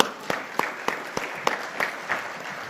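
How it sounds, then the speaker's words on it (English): Audience applause at a business leader awards ceremony, a steady patter of many hands clapping close and clear for a few seconds with no talk over it. "Ladies and gentlemen, a big round of applause."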